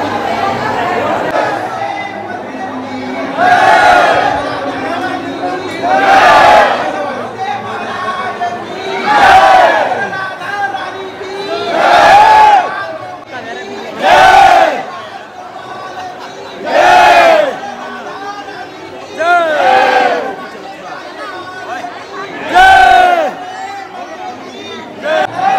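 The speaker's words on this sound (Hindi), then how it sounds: "बहुत ही भीड़, ज़्यादा भीड़ हो गया इधर" Large crowd of devotees at Prem Mandir temple in Vrindavan, a constant dense hubbub of many voices with repeated loud surges of chanting or shouting every few seconds.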